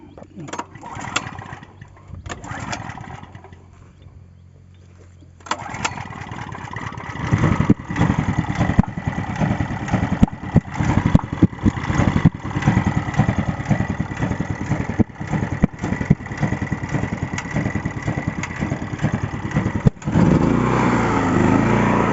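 An aging 3000 W generator used with a welding machine, starting after a quieter stretch of talk and then chugging steadily as a loud, rough, mid-pitched engine drone with someone speaking over it.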